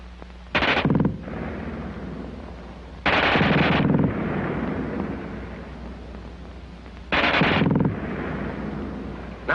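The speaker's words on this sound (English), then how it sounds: "Nobody but the replacement, who can't get over the fast burp of that German gun." German WWII machine gun, such as an MG34 or MG42, fires three short, loud bursts at a very high rate. Each burst lasts about half a second to a second, with a steady background rumble in the gaps between them.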